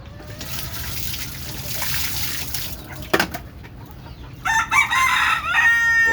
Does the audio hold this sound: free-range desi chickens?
yes